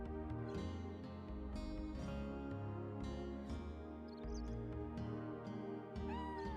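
A cat meows in the Chrono Cross video game over continuous background music, with a few short calls sitting among the melody.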